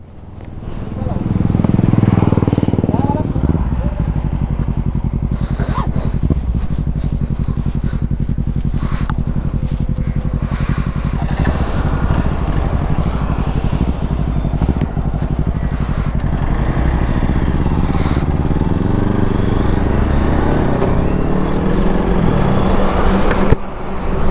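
A Hero Xpulse 200 motorcycle runs with a steady low engine rumble and some revving, heard close by under a rider talking almost throughout.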